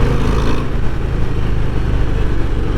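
A 2024 Harley-Davidson Breakout 117 motorcycle accelerates under the rider, its deep engine rumble loud, close and steady, swelling slightly as the throttle opens.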